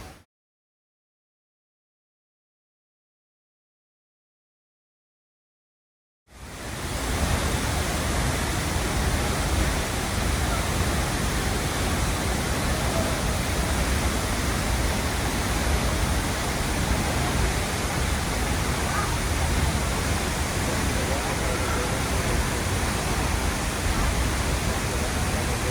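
Steady, loud broadband rush of the La Fortuna waterfall in Costa Rica, constant and close, filling the scene after about six seconds of silence, with no voices.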